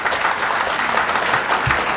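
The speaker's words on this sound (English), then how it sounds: "we'd appreciate no applause" Applause in a city council chamber: a short, steady patter of many hands clapping at moderate loudness, with no talk over it, filling the room briefly.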